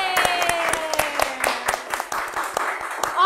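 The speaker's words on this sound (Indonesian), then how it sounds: "Kita beri tepuk tangan semuanya." A small audience at a church podcast event claps in sharp, distinct bursts to welcome a guest speaker, the claps scattered and close, with voices calling out over them.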